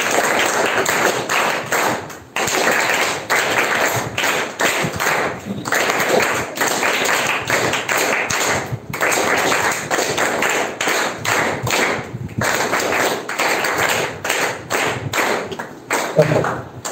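A classroom group claps in congratulation in a dense, steady burst of applause that lasts a long time with a few short breaks. There is no clear count of separate claps.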